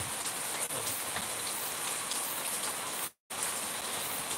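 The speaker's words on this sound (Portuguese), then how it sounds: "Tá chovendo" Steady rain falls in a rural interior town at night, a dense, even hiss of drops that runs throughout with one brief dropout near the end.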